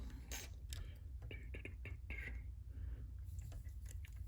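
Lockwire pliers are squeezed shut and locked on safety wire around bolt heads, giving small close creaks and metallic ratcheting clicks during a rebuild.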